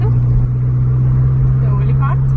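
A car drives along on the way to dinner, a loud constant low engine and road hum with a brief voice over it.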